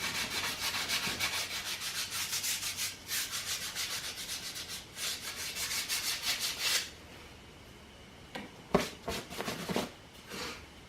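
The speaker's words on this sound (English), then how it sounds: "Takes a good bit of sanding to get all these little edges cleaned up." Steady rasping sandpaper strokes rubbing against wood, repeated in bursts close by, with a short pause before a few more quick scrubs.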